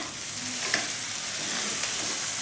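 Onions and green chili frying in a pan with a little salt, a steady close sizzle with faint stirring scrapes, continuous and without talk.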